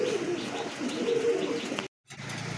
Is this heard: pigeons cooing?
yes